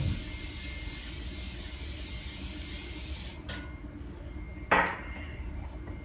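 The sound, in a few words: cooking spray sprayed into a pan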